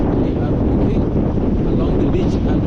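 Strong wind blows on Diani beach in Kenya, a steady loud broadband roar buffeting the microphone throughout with no break.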